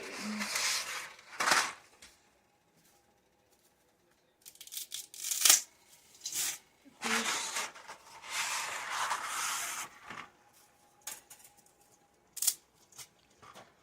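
Dry spaghetti is snapped in half and dropped into a pot for pizza spaghetti, heard as several short bursts of crackling, rustling snaps and clatter separated by quiet gaps.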